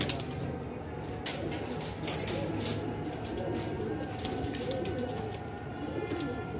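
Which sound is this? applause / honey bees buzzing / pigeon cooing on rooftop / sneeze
pigeon cooing on rooftop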